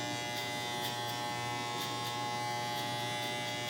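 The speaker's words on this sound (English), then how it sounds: "You just kind of close your clipper as you go a little lower than the last time." Electric hair clippers run steadily through a fade haircut, a close, continuous buzzing hum that holds at an even level from start to finish with no talking.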